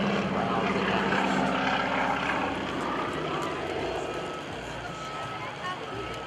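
A Stearman biplane performing aerobatics at an air force base open house airshow drones with a steady propeller engine roar, slowly fading, while an announcer talks over it.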